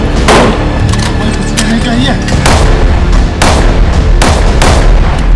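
Loud gunfire in a Hindi film scene about dacoits in the Chambal ravines, several heavy booming shots spaced about a second apart over a dense, noisy background.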